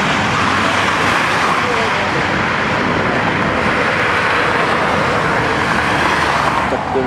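US Army Dragon military convoy of trucks passing near the village of Daskabát, a continuous loud roadside roar of heavy engines and tires that holds steady throughout, with people talking nearby.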